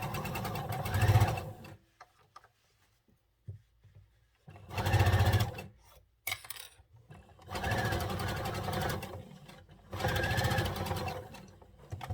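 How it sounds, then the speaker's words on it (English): A sewing machine stitches a hoodie pocket bag with a quarter-inch seam in four loud, close bursts of steady whirring, separated by quiet pauses and a few small handling clicks. "I like to use my sewing machine first"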